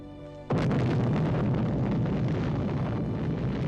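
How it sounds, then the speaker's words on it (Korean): Massive second explosion at the Beirut port heard from a nearby street, a sudden deep boom after half a second of quiet that becomes a sustained loud roaring rumble, no voices. "엄청난 2차 대폭발로 인해 옥상이 초토화돼 버려"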